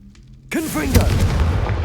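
A Confringo spell blast in Hogwarts Legacy, a sudden loud booming explosion with a whooshing, crackling tail that rumbles on for over a second, breaking in right after a shouted incantation.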